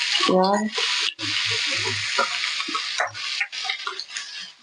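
Onions frying in hot oil with cumin, producing a constant close sizzle and crackle with a few light knocks, while a voice speaks briefly at the start.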